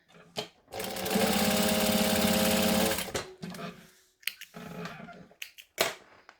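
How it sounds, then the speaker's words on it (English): A sewing machine runs in one loud, steady burst of about two seconds, stitching along the edges of a bag, followed by a few short clicks and handling noises. "So I'm going to stitch along the edges. And then do it again."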